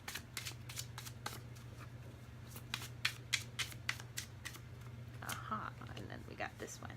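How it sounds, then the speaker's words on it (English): A deck of tarot cards is shuffled close up, giving a quick series of crisp riffling snaps and flicks over a steady low hum, with speech present. "and then we'll pull from Vix's deck"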